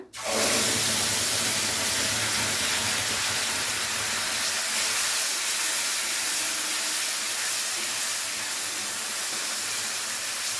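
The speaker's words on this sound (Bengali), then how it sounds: "ফোড়নটাকে হালকা নাড়াচাড়া করে নিয়ে ওর মধ্যে দিয়ে দিচ্ছি সামান্য একটু হিং, আর দিয়ে দিচ্ছি গুলে রাখা সেই মশলাটা" Soaked spice paste with a pinch of asafoetida hitting hot tempering oil, bursting into a loud, sustained sizzle that holds steady and close throughout.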